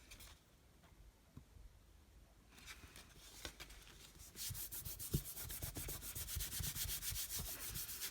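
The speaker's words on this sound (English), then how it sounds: "I always do turn it over like this and rub the back, because that just makes sure that the glue is all distributed" A hand rubbing over the back of a glued card, soft papery friction that starts faint and swells into steady, close scratchy strokes.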